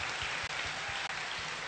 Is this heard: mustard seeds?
no